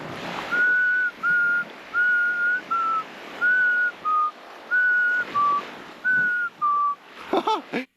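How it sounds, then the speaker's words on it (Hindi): On a deserted island, a person whistles a run of short, clear, steady notes in a repeating two-tone pattern to draw hermit crabs out of their shells, fairly close and alone, ending in a few quick, broken chirps. "अगर आप सच में सीटी बजाएं तो ये अपने शेल से बाहर आ जाते हैं"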